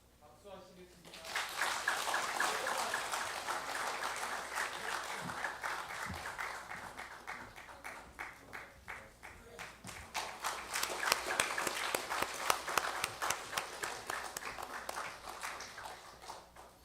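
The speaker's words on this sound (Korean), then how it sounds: "박수하시겠습니다." A church congregation at a Sunday Lent service applauds, the clapping swelling in, easing midway, then rising again into brighter, more distinct hand claps before fading.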